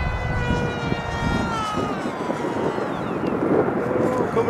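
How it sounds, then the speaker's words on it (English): Strong gusting wind buffets the microphone at a flying field for radio-controlled model planes, a steady loud rush with a faint high engine whine drifting through it. "It's just too windy today to really fly good."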